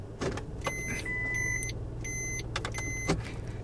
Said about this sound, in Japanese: リバースに入れた瞬間に、ピーと鳴ってからね、ピッピーとなります。